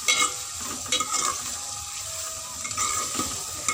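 Potatoes, capsicum and tomatoes cook in a pan, sizzling steadily while a spatula stirs and scrapes in short bursts close by, with some wet bubbling; no one talks.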